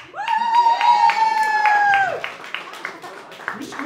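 Carnival-show crowd at a Fasnacht performance cheers and claps, a loud sustained whoop from the audience at first, then scattered individual claps trailing off.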